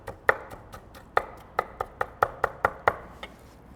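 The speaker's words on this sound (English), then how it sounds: "we're gonna chop up our onions and add those as well" A knife chops onions on a cutting board in a kitchen, about a dozen crisp, close taps in a loose, uneven rhythm, with quiet pauses between the strokes.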